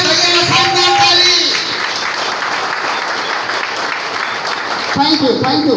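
Meeting audience in Mau claps for the leader, continuous dense applause holding steady, while someone talks over it briefly at the start and again toward the end.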